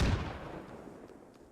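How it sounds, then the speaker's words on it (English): A grenade bursts in a competitive multiplayer shooter match: one sharp, loud blast that trails off into a rumbling, decaying tail over about a second and a half, with no voices. "Vishnu throws a nade"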